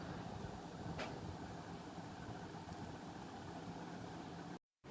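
Bitter gourd (kakrol) rubbed with salt and turmeric sizzles in a frying pan as a steady, dense hiss that holds evenly, then drops out for a moment near the end.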